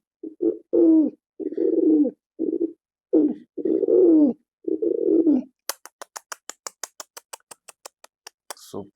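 A performer mimics a pigeon cooing with their voice: a run of low, throaty, rolling coos, then a fast series of short clicking pulses, close up with no other sound.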